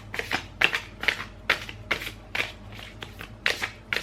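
Playing cards are shuffled repeatedly, a series of crisp riffling bursts with short pauses between them, close and fairly loud, with no talking.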